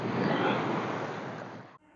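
A steady rushing wash of surf at Veli beach, Thiruvananthapuram, rolls on for nearly two seconds, then cuts off abruptly.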